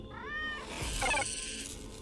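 A single drawn-out cat meow from the game Tales of the Neon Sea, rising and falling clearly and up close, followed by a short rustling thump.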